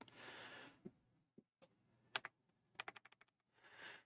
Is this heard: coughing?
no